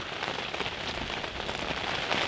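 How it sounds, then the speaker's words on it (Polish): Heavy rain pours down steadily, a dense, loud hiss of drops drumming on surfaces nearby with no pauses and no voices. "Wali deszczem."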